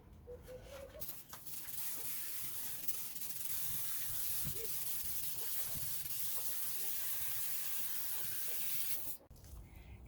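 A natural powdery mildew remedy is sprayed onto garden plants outdoors, giving a steady, soft hiss that runs for several seconds with faint background noise and no talking.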